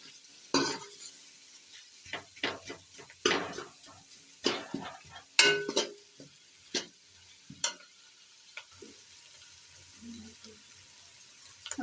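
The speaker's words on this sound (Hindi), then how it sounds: "अभी हम इसको अच्छे तरीके से मिक्स करके" A spoon scrapes and knocks through a mashed potato and onion kachori filling cooking in a pan, irregular stirring strokes close by over a faint sizzle, with no talking.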